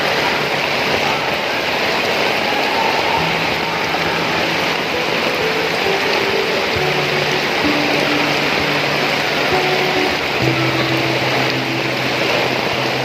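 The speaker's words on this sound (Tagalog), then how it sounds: "Lumalakas na ang ulan ngayon." Steady, dense hiss of heavy typhoon rain pouring continuously, with a low droning hum running underneath throughout.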